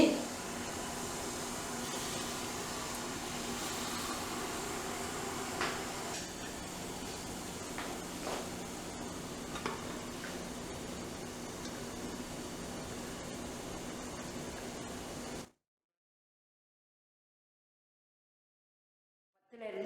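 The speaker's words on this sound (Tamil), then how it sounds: "இப்போ தண்ணி கொதிக்க ஆரம்பிச்சிருச்சு" Water boils steadily in an idli steamer pot with a constant rushing hiss and faint bubbling for about fifteen seconds, then cuts to silence.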